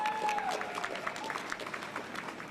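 Outdoor crowd applause for a council member at a Philadelphia Pride flag raising, steady dense clapping at moderate distance, fairly faint, with a brief voice trace at the start.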